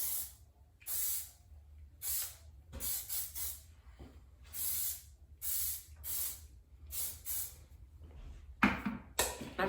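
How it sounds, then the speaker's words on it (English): A hairspray can sprays onto a hairbrush in a series of short, close bursts of hiss with brief pauses between them, about a dozen sprays in all, with no talking. "I take some hairspray in my brush. I'm going to hairspray it."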